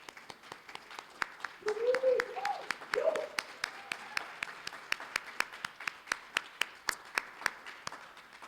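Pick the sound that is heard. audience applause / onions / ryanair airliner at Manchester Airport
audience applause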